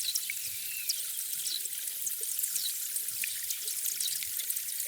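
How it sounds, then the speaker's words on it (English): Air bubbles escaping from melting ice make a steady fizzing crackle of tiny high pops and ticks, dense and continuous, with faint trickling water beneath. "That is in fact the bubbles that is coming from the ice."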